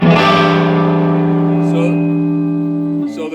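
Electric guitar with Polsfuss GRL-1 Lace Hemi Nitro pickups wired in series for extra distortion: one loud sustained chord rings out for about three seconds and fades slightly, then a brief new strum, with no talking.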